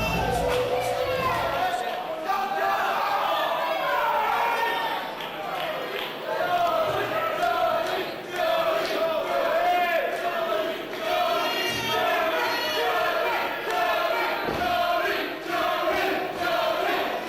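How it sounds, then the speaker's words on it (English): A live wrestling crowd at the Colchester Hippodrome cheers through a three-way number-one contenders main event between Kidman, Jody Fleisch and Johnny Storm, a steady, dense roar of voices that swells and dips without a break. "Some fans cheering for Jody, some fans cheering for Johnny, some fans cheering for Kidman."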